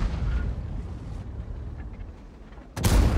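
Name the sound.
tank cannon AP shell penetrating enemy tank, from a video game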